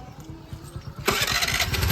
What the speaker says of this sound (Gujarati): જો મિત્રો આ મીતાબેન ગાડી હાંકે છે હવે